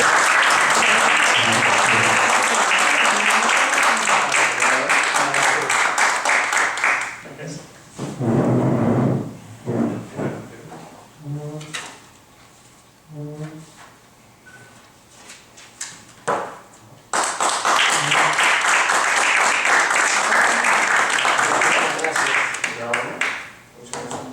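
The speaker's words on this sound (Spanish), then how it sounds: "Aplausos, por favor" Loud audience applause at a short story award ceremony, a dense burst of clapping that stops for a stretch of quieter sounds with speech and movement, then returns as a full wave of clapping.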